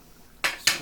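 Two quick metallic clanks sound close by as a pot lid is set back on a pan of softening peppers, the second knock following about a quarter second after the first.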